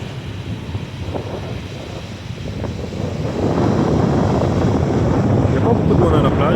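Wind buffets the microphone at a sparsely visited beach in Saint-Jean-de-Monts, France, a gusty roar with possible surf that grows louder and more sustained in the second half.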